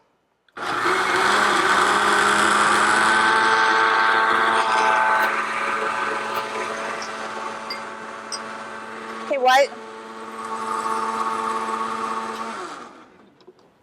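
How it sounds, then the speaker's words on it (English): A kitchen blender whirs loudly and steadily for several seconds while blending a deep purple drink, dips briefly, then runs on before stopping; a voice speaks briefly over it. "Put this in our blender. And I'm going to blend this for just a minute"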